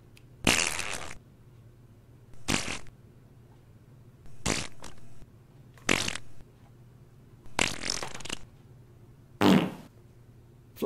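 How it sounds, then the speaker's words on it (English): Fart noises in a comedic bit, six separate loud, close bursts of rough, sputtering sound, each about half a second long, with quiet gaps between them. "Fart noises!"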